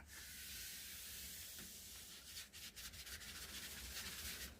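Steady hissing fine-grit sandpaper rubs across elm wood, first as one long continuous stroke, then as quicker back-and-forth strokes, close and alone.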